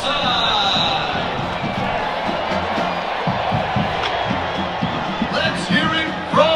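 Fans on the west side of a stadium at a Colorado vs NDSU football game cheer and chant, a thick, steady roar of many voices lasting the whole stretch with a few whoops rising near the end.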